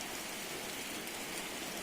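Heavy monsoon rain pours down steadily outdoors, a dense, even hiss of falling water with no breaks or voices, close and enveloping.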